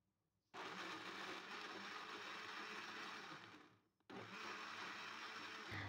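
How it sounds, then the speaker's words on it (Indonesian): A kitchen blender runs briefly to coarse-chop jackfruit for a bingka cake. The steady whirring motor is loud and close, cuts out for a moment, then starts again, with no voices. "ini cukup di blender sebentar supaya tekstur dari nangkanya masih ada saat digigit"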